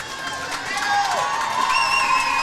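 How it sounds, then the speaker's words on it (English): A crowd at a Saturday afternoon youth varsity hockey game cheers and shouts, a lively swell of voices and whistles at moderate distance. "Crowd's into it too."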